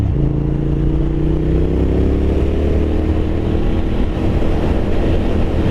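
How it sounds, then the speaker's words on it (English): A 2023 Triumph Thruxton RS Chrome Edition cafe racer rides loudly at about 50 mph, its engine drone close and steady with a gentle pitch rise as it rolls over railroad tracks. "time to test out the railroad tracks at about 50 miles an hour"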